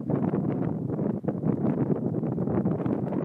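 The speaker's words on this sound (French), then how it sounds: "il y a un peu de vent" Steady outdoor wind in Provence buffets the microphone, a dense, continuous low rumble that holds at a constant level throughout without any voices.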